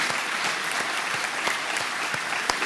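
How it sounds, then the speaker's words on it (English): Congregation applause at a Sunday worship service, a steady wash of many hands clapping for nearly three seconds, with a few sharper individual claps standing out. "Let's give them a round of applause."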